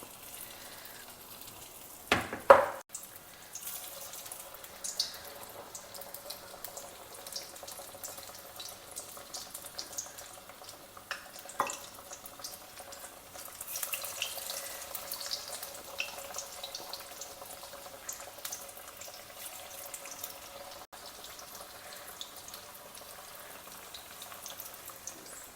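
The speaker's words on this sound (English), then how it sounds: "coat it well in the batter and gently drop it into the hot oil" Batter-coated sweet potato slices for bajji sizzle steadily in hot oil, with a brief sharp splash and clatter near the start as a piece goes in, then a soft, continuous frying hiss throughout.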